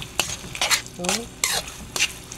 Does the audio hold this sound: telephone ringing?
no